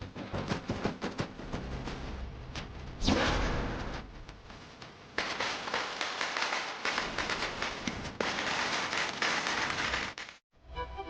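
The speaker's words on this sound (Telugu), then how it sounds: "టపాసులు కాల్చడం ఎలాగో ఇప్పుడు నేను కాల్చి చూపిస్తాను." A long, dense string of firecrackers crackling and popping in rapid succession, continuous rattling bursts that stop abruptly at the end.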